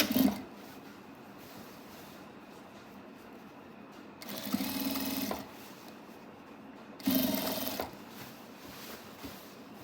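A sewing machine runs in two distinct bursts, each lasting over a second, stitching fabric for a telekung prayer garment, separated by quieter stretches of faint handling, close and moderately loud.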